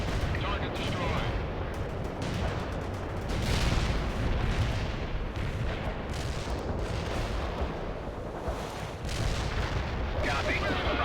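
An artillery barrage in the real-time strategy game World in Conflict pounds a target area with dense, continuous rumbling explosions and crackling blasts, loud and unbroken, with faint voices mixed in.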